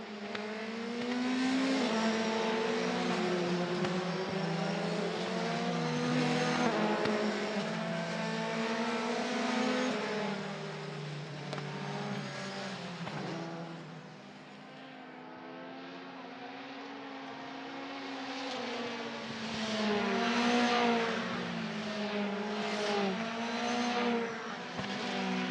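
Euroformula Open single-seater race cars on the formation lap at Imola: high-pitched engines revving and rising and falling in pitch as several cars pass, fading briefly midway before swelling loud again, with no speech.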